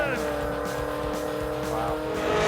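A 1980 Chevy El Camino spins its tires at a drag-style pass-time event, with a loud, continuous engine roar and tire noise under crowd commotion throughout the short burst.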